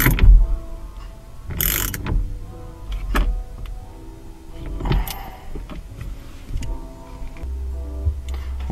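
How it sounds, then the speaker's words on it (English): A steering wheel nut tightened on a Nissan 240SX S13 during a steering wheel install, with several sharp close ratcheting clicks and mechanical bursts separated by short pauses, no talking. "put the nut back on and crank it all the way tight"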